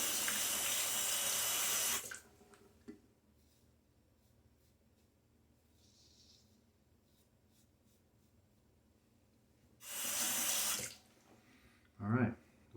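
A bathroom tap runs loudly for a rinse during a wet shave, gushing steadily for about two seconds, then silence, then a second full burst of running water followed by a brief splash.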